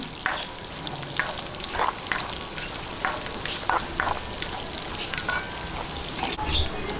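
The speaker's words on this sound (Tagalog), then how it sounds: "Isa-gisahin lang po natin hanggang mag light brown." Garlic sautéing in a pan until light brown gives a continuous close sizzle, broken by intermittent spatula scrapes and crackles, with no voices.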